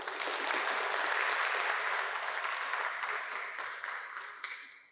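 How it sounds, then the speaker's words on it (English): Audience applause at a fellows' reading at a museum, a dense, sustained burst of many hands clapping that holds steady for several seconds before tapering off. "A round of applause for each and every one of you."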